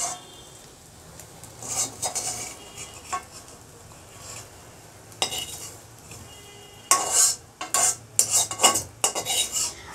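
Fried prawns are lifted from a pan with a metal utensil, giving scattered scrapes and clinks at first, then a burst of rapid, louder scraping and tapping against the pan near the end, close by.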